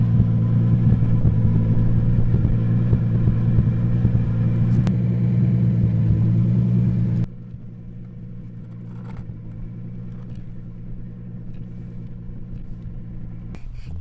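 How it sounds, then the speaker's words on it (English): A 700 hp Toyota Supra doing a big burnout roars with a loud, sustained, deep engine drone at high revs, then drops abruptly to a lower, steadier idle rumble. "Really big burnout, huh?"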